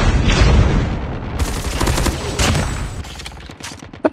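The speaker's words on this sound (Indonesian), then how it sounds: "Hey, ini pistol loh." L-CAR 9 pistol fire in Call of Duty Mobile on the Alcatraz map comes in loud, rapid bursts of overlapping shots and booms that keep going almost without pause.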